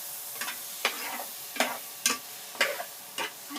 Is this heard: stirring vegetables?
yes